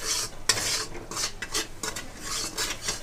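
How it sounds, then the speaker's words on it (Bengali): Cumin, chili, salt and turmeric stir-fried over a low-medium flame, a spatula scraping and clinking against the pan in steady repeated strokes under a soft sizzle, close and fairly loud, with no talk. "দিয়ে খুব ভালো করে কষে নেব লো টু মিডিয়াম ফ্লেমে"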